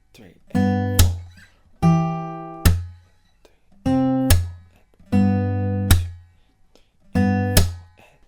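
Fingerpicked acoustic guitar plays the verse riff of a song, bright ringing chords and plucked notes repeating in an even pattern, close and clear, with no voice.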